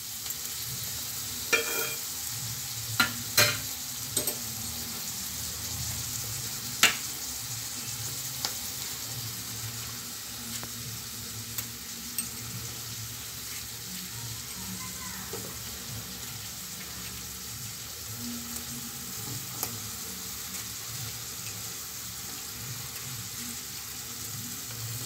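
Brinjal pieces fry in a pan, giving a steady close sizzle broken by a few sharp clinks and scrapes as they are stirred, with no voices.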